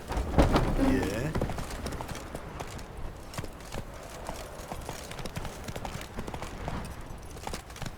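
Roach, a horse in The Witcher 3, moves with rhythmic hoof clip-clops under a steady outdoor backdrop, hooves close and clear, with a louder burst of movement near the start.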